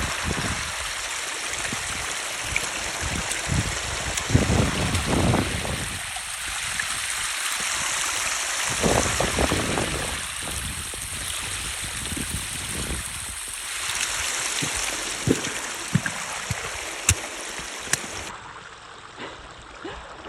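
Rainwater running like a stream across a campsite beside a tarn, amid snow, rain, wind and cold; a continuous rushing flow with gusting wind surges and occasional small knocks, no talking.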